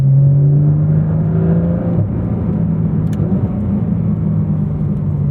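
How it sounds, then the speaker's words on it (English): A Porsche 718 Spyder RS or 911 991.2 GT3 RS engine pulls hard with a steady, loud drone that shifts pitch around a smooth, gapless gear change, heard from inside the car without talk. "You can hear the gear change, but you can't actually feel anything in your back."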